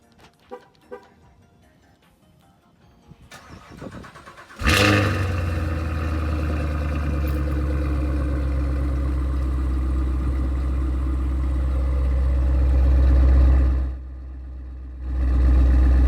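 2018 Cadillac CTS-V with a loud aftermarket Corsa exhaust: after faint handling noises, the engine fires with a sharp bark, settles into a loud rumbling idle, then swells in revs, briefly drops and rises again.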